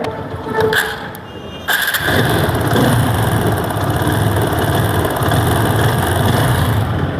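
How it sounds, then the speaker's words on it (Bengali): A TVS 4V motorcycle with about 17,000 km on it idles after a full service, its engine running in a steady, even rhythm close to the microphone with a brief click early on. "আমরা এখন বাইকের সাউন্ডটা দেখব"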